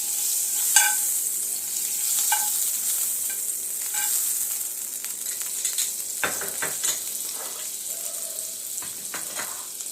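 Butter melts and sizzles in a thick pan with a soft, steady hiss, broken by a few clicks and scraping sounds from the utensils, and no voices.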